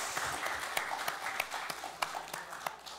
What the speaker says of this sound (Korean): 잘 갔다 오라고 우리 박수하겠습니다.